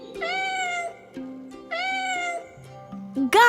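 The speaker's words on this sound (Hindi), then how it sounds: "बिल्ली" A cat gives two drawn-out meows, then a short, higher mew at the end, with soft musical tones sustained in the background.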